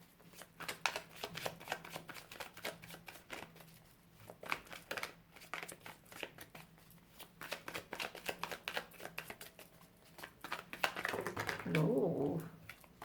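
A deck of tarot cards is shuffled up close, with repeated crisp riffles and soft slaps in an irregular rhythm, followed by a brief rustle and a low animal sound near the end.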